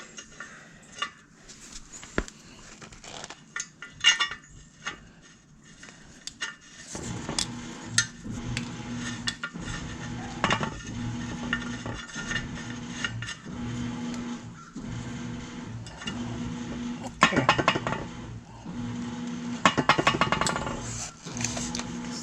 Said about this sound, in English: Excuse the background noise. I got the laundry going today.